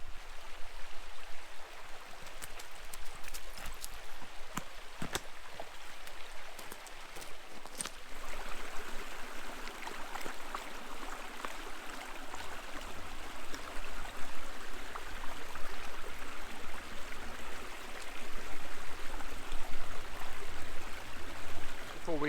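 Steady outdoor stream flow on the River Cothi, a continuous broadband wash of running water that swells slightly louder toward the end, with no talk over it.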